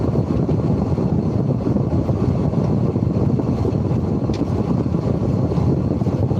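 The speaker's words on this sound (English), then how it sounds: "put the blower on for a bit. Just need to get a bit of warmth in the cab." A vehicle cab heater blower fan runs steadily in a milk delivery van, a constant loud broadband whoosh with no breaks, close to the microphone and heard alone.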